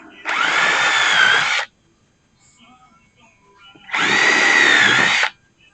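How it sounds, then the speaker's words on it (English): Power drill boring holes through the wooden arm of an Adirondack chair: two loud high-pitched whirring bursts of about a second and a half each, separated by a quiet pause with faint handling noises. "I'll drill me some holes"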